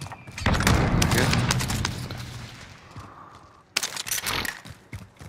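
Video game gunfire crackles in a dense volley at the start, thins out, then returns in a second burst of sharp shots near the end, loud and close.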